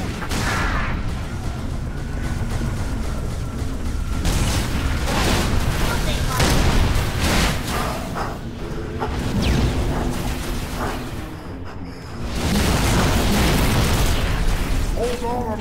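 Grenade explosions in Halo 3 ODST with an overhaul mod, a dense run of loud booming blasts and pops overlapping one another, briefly easing before another heavy burst.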